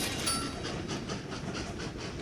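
A train rolling through a station in the puzzle game Train Valley, giving a steady broadband rumble and hiss with faint rhythmic clatter, continuous and moderately loud throughout.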